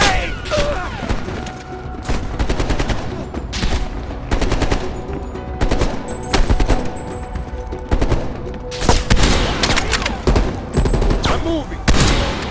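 Rapid bursts of automatic gunfire and heavy booms rattle continuously and loudly through a Call of Duty: Black Ops Cold War battle, with repeated volleys close by and voices shouting underneath.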